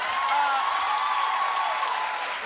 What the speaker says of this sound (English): Stop with the clapping, I'm gonna lose my train of thought.